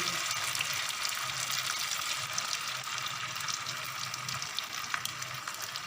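Chicken frying in a pan for chicken Manchurian, a steady, loud, dense sizzle that holds evenly from start to finish with no voices.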